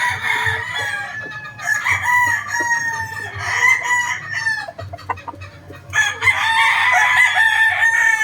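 Several two-year-old roosters crow loudly and repeatedly, their calls overlapping, with hens clucking in the background of a busy yard.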